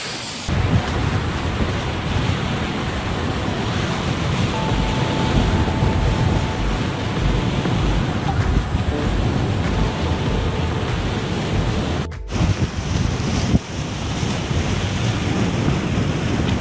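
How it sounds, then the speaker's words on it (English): A small waterfall near a trail, heard while riding a Gotway MSX electric unicycle, gives a steady, loud rushing roar of falling water mixed with wind buffeting, continuous and close throughout. "Get your own personal waterfall."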